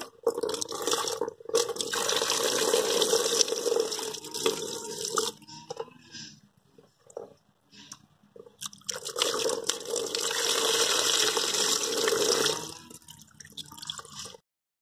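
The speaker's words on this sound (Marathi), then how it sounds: "ही काळी मिरी मी स्वच्छ धुवून घेत आहे।" Fresh black pepper clusters are rinsed in water, with splashing, trickling and dripping in two main bursts separated by a quieter stretch of occasional drips, close by.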